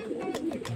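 Pigeons coo in short, soft repeated calls outdoors during a pigeon training session, several brief coos close by.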